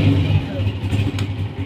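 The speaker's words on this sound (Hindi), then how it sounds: "बाइक को करते हैं स्टार्ट।" A motorbike engine in a village starts up and runs with a low, steady, pulsing hum close by, and a voice can be heard faintly over it.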